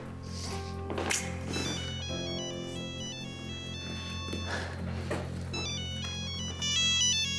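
A telephone ringtone rings in a repeating electronic melody, loud and close, with brief rustling and faint movement underneath and no talk over it.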